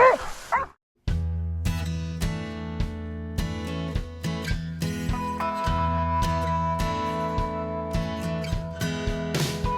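Hunting dogs bark and yip in a steady run of sharp, overlapping calls during a boar hunt in an Australian rainforest, fairly close, with a brief silence near the start.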